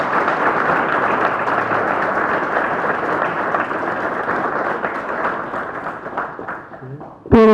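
Audience applause welcoming an author at a book presentation, sustained moderate clapping from a crowd that slowly thins and fades, with a brief louder sound right at the end.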